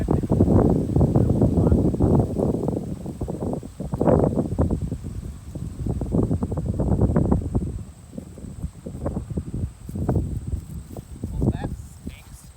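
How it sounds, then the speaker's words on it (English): Strong wind buffets outdoors in heavy, rumbling gusts that swell and ease throughout, loud against the microphone. "the wind starts windy"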